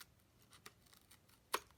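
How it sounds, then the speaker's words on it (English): Scissors snip a ribbon on a handmade card, one crisp, quiet cut near the end after faint rustling handling. "let's cut this ribbon off."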